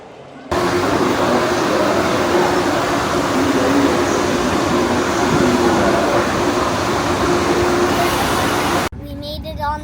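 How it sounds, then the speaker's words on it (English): A steady, broadband rumble fills the inside of a train carriage on a ride from Rome to Venice, with a faint tonal hum running through it. The noise holds at an even level, then drops to quieter ambience at the end. "we're taking a train from Rome to Venice"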